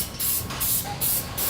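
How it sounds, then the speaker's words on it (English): Spray mount adhesive hisses from an aerosol can onto a piece of chipboard in three short, close bursts with brief pauses between them. "That's not always doable, but in this case we're going to do it."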